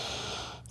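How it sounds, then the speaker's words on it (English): A single deep breath drawn in through the nose during a calm seated yoga pose, a soft, close airy rush that fades out near the end. "we'll take one big deep breath again"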